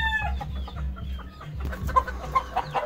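Breeding roosters at a gamecock farm cluck in short, repeated bursts with a few louder crowing calls toward the end, close by over a steady low hum.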